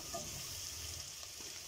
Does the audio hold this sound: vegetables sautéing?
yes